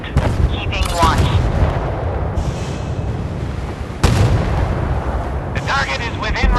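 Warship artillery fire in the naval video game Force of Warships: two loud booming cannon blasts, the first near the start and the second at about four seconds, each with a rumbling tail, alongside a synthetic voice announcing game status.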